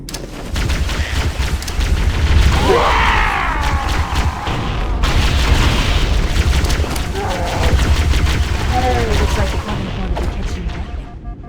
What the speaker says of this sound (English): you're stocked on them the whole time, so it was pretty easy to just grenade everything